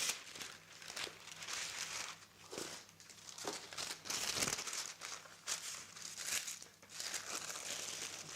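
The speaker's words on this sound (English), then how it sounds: "Put another piece of cooking paper on top of the first one." Sheets of cooking paper crinkle and rustle as they are laid over a baked quinoa pizza, with several crackling bursts close by and no talk.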